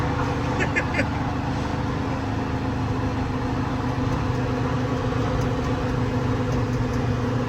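A 1966 Kenworth Dart truck drives with a loud, steady engine drone that fills the whole stretch, heard from inside the cab; no gear change stands out clearly, and a voice is present underneath.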